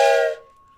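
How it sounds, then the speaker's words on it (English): A train whistle sound effect plays at a basketball trading card box break, a short loud steam-whistle blast that cuts off and leaves a thin fading tone, with no talking over it. "get the train whistle"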